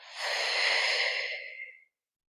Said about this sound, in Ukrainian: І знову зробити вдих і видих